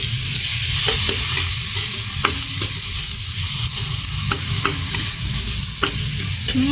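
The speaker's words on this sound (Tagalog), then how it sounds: "Haluin." Spoon stirring shrimp paste (alamang) and black pepper in a hot pan for a crab, long bean and squash coconut stew, with steady sizzling frying under rhythmic scraping strokes, close and continuous, no talking.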